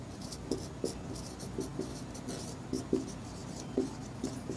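Short scratchy pen or chalk strokes on paper or a board come in quick bursts at close range during a lesson about clock hands and angles, with a faint voice in the background.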